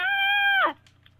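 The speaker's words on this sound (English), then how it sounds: "That's a dying cat." A Minecraft cat's dying cry: a single sustained, harmonic meow-like wail that bends downward and cuts off, followed by faint short chirps, heard alone.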